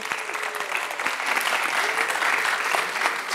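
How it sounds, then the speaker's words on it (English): A live audience applauds two speakers at a talk event, the steady dense clapping filling the room throughout with faint crowd murmur underneath. "I'd like everyone to give a warm round of applause to the two speakers who are Monique and Venda."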